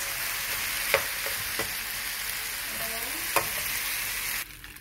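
Kimchi fried rice being stirred and mixed in a frying pan, with a steady close sizzle and a few sharp spatula scrapes and taps, then the frying drops off abruptly at the end.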